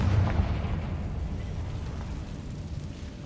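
A Confringo fire spell blasts in Hogwarts Legacy, a deep rumbling explosion near the start that rolls on as a low, sustained boom with crackling debris under a faint voice.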